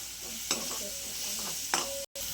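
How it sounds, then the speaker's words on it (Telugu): Chili powder frying in oil in a pan, a steady soft sizzle with a couple of scraping stirs of a spoon against the pan, close and moderately quiet. "కారం బాగా ఫ్రై చేసుకోవాలి."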